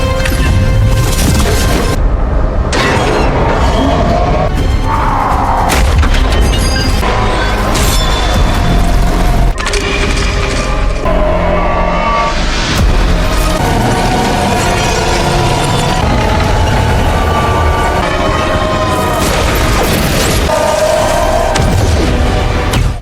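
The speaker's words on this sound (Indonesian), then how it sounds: "Setelah ledakan dahsyat itu," Huge explosion in the action film Black Adam, a dense roaring blast with crashing debris, shattering and metallic clanks, loud and continuous throughout with no talk.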